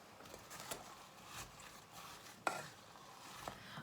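A spoon stirs a boiling pot of apple and rhubarb jam, giving faint, soft scraping strokes and an occasional light knock against the pan over a quiet bubbling background.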